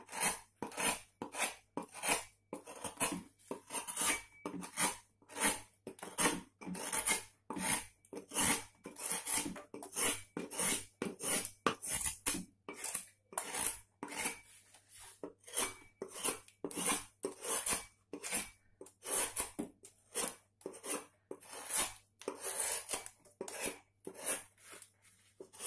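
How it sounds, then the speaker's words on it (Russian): A wood carving knife slices across the grain of a carved wooden eagle, producing a long run of quick, regular short scraping cuts, close and crisp, with no talking. "Режем поперек волокон."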